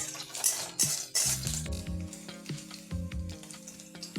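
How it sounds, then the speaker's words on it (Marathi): Cumin and asafoetida fry in hot oil with a soft sizzle, broken by repeated metallic clinks and scrapes of a spoon stirring in the pan, nearby and without speech. "जिरे हिंग लालसर गुलाबी लालसर तळून घ्यायचा"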